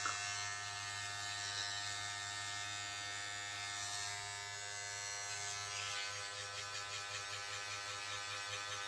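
A Geemy GM 860 electric hair clipper runs steadily with a loud, continuous high-pitched buzz that holds its power throughout.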